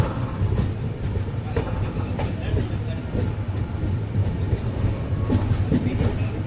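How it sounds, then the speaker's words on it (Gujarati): Steady low rumble of the Kochuveli Express slowing on rails to change tracks near Surendranagar, with intermittent clicks and clacks from the wheels, heard from on board at a moderate, even pace. "ટ્રેક ચેન્જ કરવા માટે ગાડી ધીમી પડી ગઈ છે"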